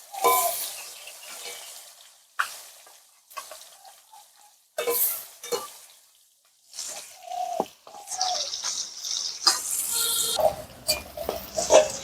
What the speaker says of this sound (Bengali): তেল গরম হয়ে গেছে এবার আমি মাছগুলো